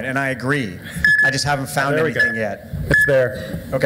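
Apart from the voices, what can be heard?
beeps signalling Bitcoin transactions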